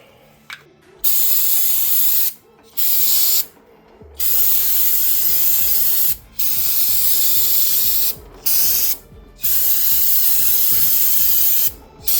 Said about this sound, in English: I'm gonna spray down and clean up some of the dirt and fingerprints all over the caliper here